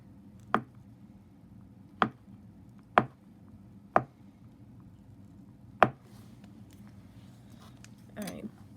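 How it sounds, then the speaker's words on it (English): A knife slices thin pieces off a bar of soap in five sharp, separate cuts spaced about a second apart, crisp and close against a quiet room, ending with a soft rustle. "Okay, so now I'm just going to try to slice off thin pieces."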